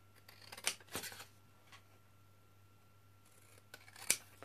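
Scissors cutting a polaroid-style paper embellishment: a few crisp snips spaced apart, two sharp cuts near the start and another pair near the end, close and quiet in a still room.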